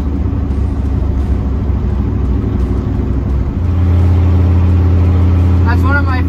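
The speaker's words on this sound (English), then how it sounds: "third gear downshift." An LS-swapped third-gen Firebird with a 700R4 four-speed automatic drops into third gear, the engine note jumping to a louder, steadier higher-rpm drone midway through, heard up close under a voice.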